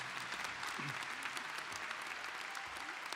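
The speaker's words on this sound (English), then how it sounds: "applaud that, applause" Graduation ceremony audience applause for a record number of degrees, a faint, steady patter of many hands clapping in a large room, with no voice over it.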